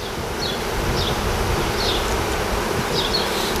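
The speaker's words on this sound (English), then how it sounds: "all these bees are fanning right now" A swarm of honeybees fanning near a catch box, a dense, steady buzzing hum that fills the whole stretch close by, with brief higher whines of single bees passing, no talk.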